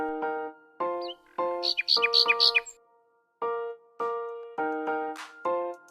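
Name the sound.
bird chirping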